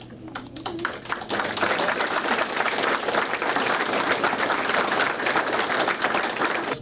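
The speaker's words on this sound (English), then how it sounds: "we'll all give her a round of applause" Loud, sustained applause from the audience at a sheriff's office quarterly awards and promotion ceremony as a grandmother's badge of rank is pinned. A few scattered claps build into full, even clapping that continues to the end.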